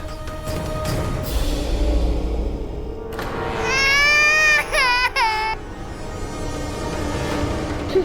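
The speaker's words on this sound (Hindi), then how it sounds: "गौरी की रोने की आवाज आ रही है" An infant girl crying in a TV drama scene, a loud wailing burst rising in the middle over quieter background sound, with faint whimpers around it.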